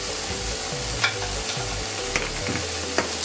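A grilled cheese sandwich sizzles steadily in a hot frying pan, a continuous close fry with a few soft clicks and scrapes from a flipper.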